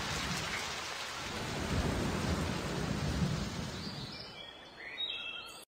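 A cartoon thunderstorm in a children's safety game: heavy rain pours steadily with rolling thunder swelling in the middle, then the downpour thins as birds chirp near the end.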